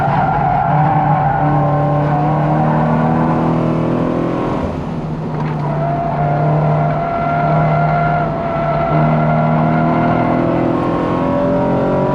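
A race car on a track howls through a fast lap, its engine note climbing and dropping through gear changes, with tire squeal and skidding mixed in at a loud, close, continuous level.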